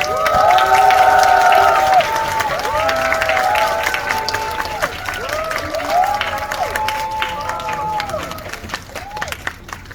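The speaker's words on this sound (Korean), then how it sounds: "뜨거운 박수 부탁드리겠습니다" An audience greets a cast stage appearance at a Megabox COEX cinema screening with sustained applause and cheering, loudest at first and then gradually thinning, with voices calling out over the clapping.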